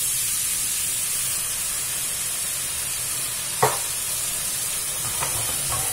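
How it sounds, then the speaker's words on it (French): Grated carrots sizzle steadily in a pan as a little carrot cooking water is poured in, giving a brief splash near the middle, with faint stirring afterward and no talking. "j'ai gardé un petit peu d'eau de cuisson des carottes que je vais rajouter"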